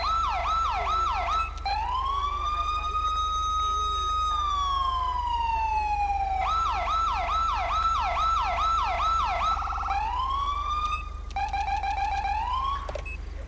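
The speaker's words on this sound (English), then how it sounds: "we got the CHP siren in," A loud California Highway Patrol police siren in the video game GTA 5 cycles through patterns: rapid wailing yelps, a long rising and falling wail, then quick piercing whoops, continuous and close.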